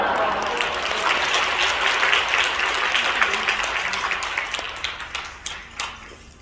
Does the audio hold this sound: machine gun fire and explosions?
no